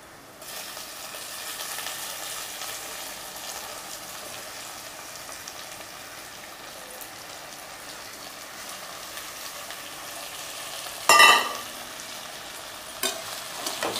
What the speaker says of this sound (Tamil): இப்போ இந்த எறாவை சேர்த்துக்கலாம்.